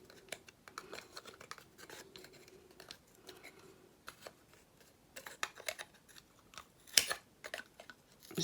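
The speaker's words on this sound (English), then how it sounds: "So we're going to cut off these 2 extra bits on the side." Scissors snip extra bits off craft paper for a beach hut model, a series of quiet, close, crisp cuts with short pauses and one sharper snip near the end.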